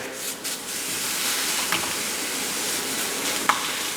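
Ground beef frying in a small sauté pan gives a soft, steady sizzle, with a few light scrapes and clicks of stirring breaking through near the start and end.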